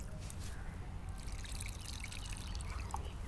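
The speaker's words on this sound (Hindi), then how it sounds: "ऐसे पानी भरिए धीरे धीरे" A steady, gentle trickle of water pours slowly into a plant pot holding a betel leaf vine cutting, soft and close, with small splashy drips and no voices.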